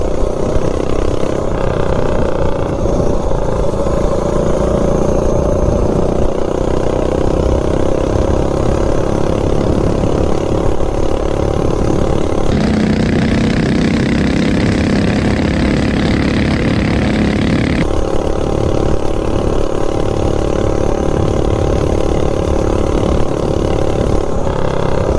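A minibike engine fitted with a five-foot intake runner drones steadily while riding, a loud close mid-pitched buzz that rises and falls slightly with throttle changes and carries on without pause.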